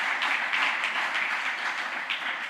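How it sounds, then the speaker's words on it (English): A general assembly audience applauds invited guests, a fairly distant, even wash of many hands clapping without a break. "I need you to put your hands together for the Julius Nyerere Leadership"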